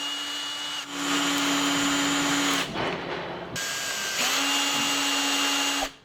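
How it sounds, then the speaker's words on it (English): A power drill drills pilot holes in wood in two long whining bursts separated by a brief pause, loud and close, with no talking. "drill 2 pilot holes and 2 screws to secure it"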